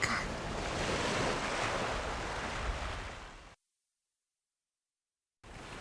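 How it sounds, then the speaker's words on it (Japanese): Ocean waves wash steadily in the seaside scene of the video game Galaxy Angel II, a soft broad surf that cuts off abruptly into silence before briefly returning. "この波の音色、なんという優しい音か"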